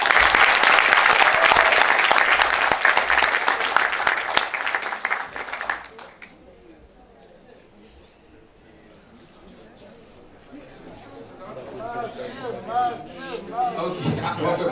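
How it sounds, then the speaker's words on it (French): Audience applause greets a deputy arriving at a conference debate, loud sustained clapping for about six seconds, then fading into murmuring crowd chatter and background talk. "je vous demande de prendre une petite minute pour applaudir l'arrivée du député Mathieu Anodin"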